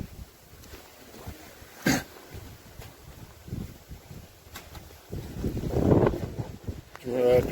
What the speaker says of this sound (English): the wind has suddenly picked up really, really heavily